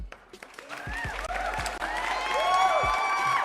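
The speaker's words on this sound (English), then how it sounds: "Big round of applause for the people in the chats." A burst of clapping and cheering from a crowd, mixed with whoops and voices, building in loudness over a few seconds.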